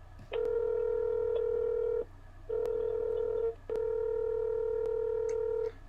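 A telephone ringback tone sounds in three long steady beeps separated by short pauses, clear and electronic, with faint clicks on the line.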